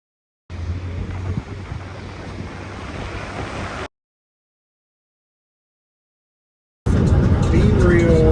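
Surf breaks against a beach under gusty wind buffeting the microphone, a steady roar that cuts out to silence and then returns louder.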